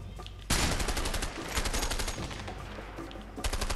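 Loud sustained gunfire from the video game A Way Out, sniper fire mixed into dense rapid bursts, continuous for about three seconds after a quiet start, with no talking.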